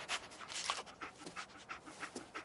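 Dogmeat, the German Shepherd companion from the video game Fallout 4, pants in quick, steady breaths close by, a run of short airy huffs with no talk over them.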